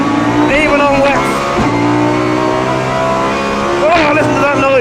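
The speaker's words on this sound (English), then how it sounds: "Oh, listen to that noise. Fantastic from that V10. It's obviously completely unsilenced." A Lamborghini Huracan GT3's unsilenced V10 howls on a wet race track, a loud, continuous engine note rising and falling through gear changes, with someone talking over it.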